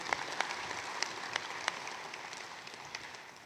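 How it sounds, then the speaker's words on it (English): Applause at the official opening of an annual general meeting, a steady mid-level wash of many hands clapping with a few sharper claps standing out, gradually fading toward the end. "Let's give him another round of applause."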